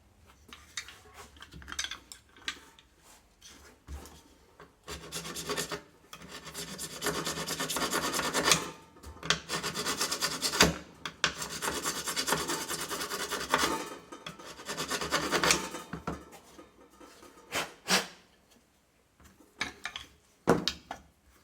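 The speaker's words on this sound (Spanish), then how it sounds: "le vamos a pasar una lima por ahí" A hand file rasps back and forth in a slot of a chainsaw cover during a chain brake repair, long close gritty strokes in bursts with short pauses between.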